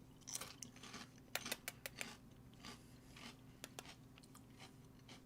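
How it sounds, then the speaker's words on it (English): Crunchy potato chips chewed close up, a string of sharp crackling bites and crunches coming in uneven bursts over a low steady hum, with no talk. "I mostly just want to bury my face in these potato chips."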